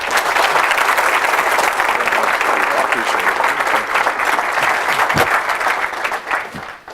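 Audience applause welcoming Kevin Warren as speaker at a Good Leadership Breakfast, sustained and loud throughout, steady dense clapping that begins to thin toward the end.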